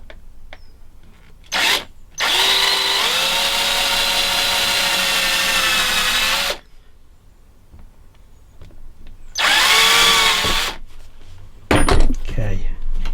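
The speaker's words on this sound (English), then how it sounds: "we've got the neck clamped down to drill the cross holes now" A power drill boring shallow cross holes into a clamped guitar neck, with a long sustained whine of about four seconds, then a shorter burst of about a second and a brief final run, each loud and close with quiet gaps between.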